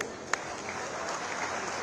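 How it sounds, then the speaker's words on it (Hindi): An audience at an outdoor political event on the Ravidas Ghat in Kashi applauds as leaders arrive on stage, giving a steady wash of clapping at moderate distance with one sharper clap near the start. "आप तालियों के साथ उनका स्वागत कर सकते हैं।"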